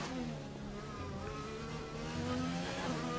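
Formula One race car in a racing video game at the Azerbaijan Grand Prix, its engine droning steadily at high revs with shifting harmonic pitch, loud and continuous with no pauses.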